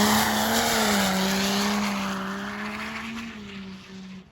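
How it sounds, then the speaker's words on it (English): A Duramax diesel pulling truck warms up at a diesel pulling event, its engine holding a loud, steady drone with a slowly wavering pitch before fading slightly toward the end. "we're getting the truck warmed up"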